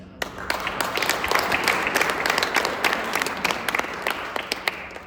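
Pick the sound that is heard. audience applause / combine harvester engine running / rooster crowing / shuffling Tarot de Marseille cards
audience applause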